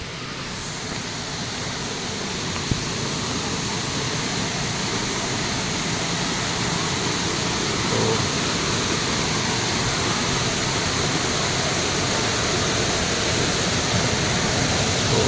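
Steady, dense roar of rushing water at Wawa Dam fills the whole clip at constant loudness, a broad continuous wash with no voices.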